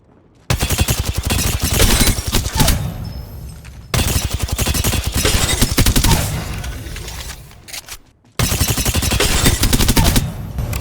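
Rapid automatic gunfire at a video game shooting range, played on a GameSir Tarantula Pro controller, comes in three loud sustained bursts separated by brief pauses.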